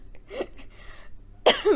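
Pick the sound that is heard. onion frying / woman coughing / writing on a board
woman coughing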